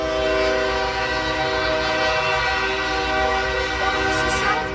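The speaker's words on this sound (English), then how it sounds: "We got a train here in Marysville." A southbound freight train passes at Marysville, Washington, its horn blaring loud and sustained right up close while the cars rumble steadily underneath.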